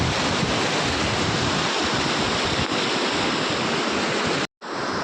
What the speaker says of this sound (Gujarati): મોટા ભૂંગળે કેટલું પાણી જાય